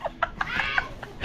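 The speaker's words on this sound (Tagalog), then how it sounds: "Pati manok magugulat din." A chicken clucks in a rapid series of short, close, bright cackles, loud and continuous through the moment.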